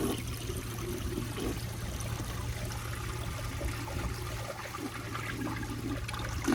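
A 1977 Universal-Rundle Citation toilet flushes with a steady, close rushing and gurgling of water that holds continuously throughout, with no voices.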